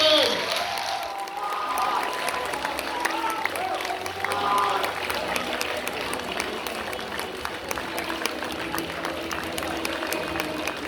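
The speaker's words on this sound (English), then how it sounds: "Let me get another round of applause for tonight's champion!" Audience applause and cheering at the grand finale awards ceremony of a drama competition, a dense sustained crowd of clapping with scattered whoops that fades slightly over the span, carrying on alone without speech.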